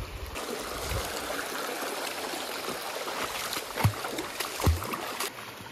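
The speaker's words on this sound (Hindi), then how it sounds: "वाटरफॉल की आवाज आने लगी है" A waterfall heard from a distance on a forest walk in Indonesia, a steady broadband rush of water filling the background, with faint footsteps and soft thuds nearby.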